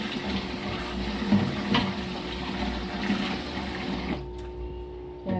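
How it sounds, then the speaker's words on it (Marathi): Grated potatoes being washed in water, a continuous sloshing and running-water sound with a low machine-like hum, steady until it abruptly thins out near the end, no talking. "आणि 4-5 पाण्याने चांगला धुवायचा स्वच्छ"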